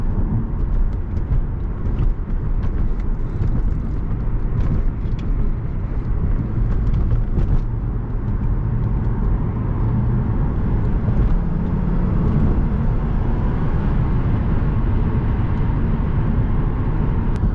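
A 2007 Lexus GS350 with a V6 and rear-wheel drive is driving along a road. Engine and road noise form a steady, loud drone that runs the whole way through, with no talking.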